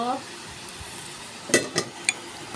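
Bottle gourd pieces go into a hot, sizzling pot for lau khichuri, giving a steady soft sizzle broken by a few quick clattering knocks of utensil against the pot near the end.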